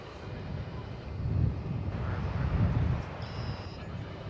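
An airplane approaching runway 17 Center at DFW Airport, a low rumbling roar swelling and easing in waves under wind noise, with a faint high tone near the end.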